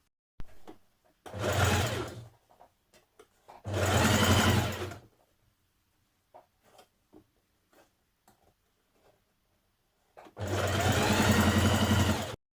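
Sewing machine stitching binding tape around a dress armhole in three separate bursts of steady running, close and loud, with small clicks and handling sounds in the quiet gaps between.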